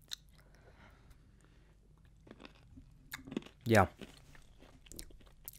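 A Karl Fazer milk chocolate pretzel is bitten with a single loud, close crunch, then chewed softly, with a brief spoken word before the bite.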